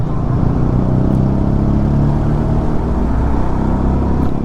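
Congested Bangalore road traffic, a jam of motorcycles and cars heard at close range as a continuous loud engine rumble with a faint rise of revving.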